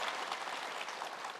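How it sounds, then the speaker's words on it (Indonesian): Brief burst of audience applause at an Islamic religious lecture gathering, soft and steady clapping from a crowd of women, lasting just over a second. "Tepuk tangan Ibu"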